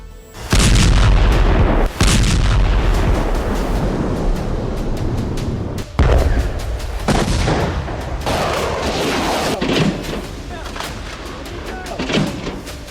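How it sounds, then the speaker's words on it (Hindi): Explosions from a Russian phosphorus bomb attack in Ukraine: heavy booming blasts with long rumbling roars, several sharp detonations spaced a few seconds apart over a continuous loud, noisy background. "ये रूस का फास्फोरस बम है जो बेहद घातक है"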